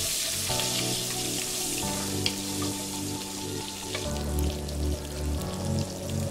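Green chilies sizzle steadily in hot oil with mustard seeds, cumin seeds and black peppercorns for South Indian sambar, a dense close frying crackle with a few louder pops and stirring, no talking.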